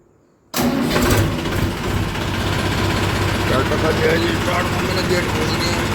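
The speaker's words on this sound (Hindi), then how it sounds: "ट्रैक्टर स्टार्ट करते हैं।" A small farm tractor engine cranks and catches abruptly, then settles into a loud, steady, rumbling idle close by.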